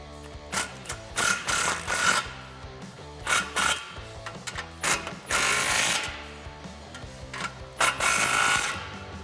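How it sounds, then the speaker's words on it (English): A ratchet tightens the exhaust clamps on a Pypes Phantom Series H-Bomb cat-back fitted to a 2018-2019 Mustang GT, heard as repeated short bursts of rapid clicking separated by brief pauses, close up. "from here you can tighten down your clamps"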